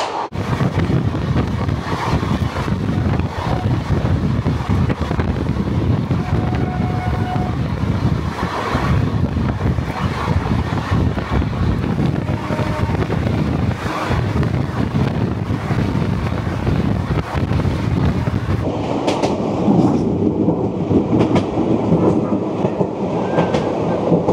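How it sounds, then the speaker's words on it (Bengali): The Kandari Express, a passenger train running from Howrah to Digha, rolls steadily along the rails with a continuous heavy rumble, clattering wheels and wind buffeting the microphone close by, the noise thinning slightly near the end. "আমাদের ট্রেন পার করলো ভুক্তিপাড়া স্টেশন"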